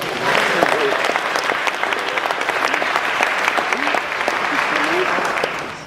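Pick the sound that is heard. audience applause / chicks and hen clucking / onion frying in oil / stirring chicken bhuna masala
audience applause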